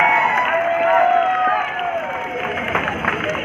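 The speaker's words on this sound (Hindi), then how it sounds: "यहाँ पर तालियों की जरूरत है इन सभी लोगों के लिए." Spectators at a bodybuilding tournament clap and cheer in a continuous wash of applause mixed with crowd voices and shouts, loudest early and easing slightly toward the end.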